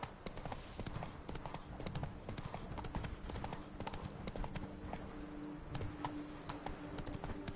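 The Witcher 3's horse Roach trots along, hooves clopping in a dense, steady rhythm up close, with faint game ambience and a brief tonal sound late on.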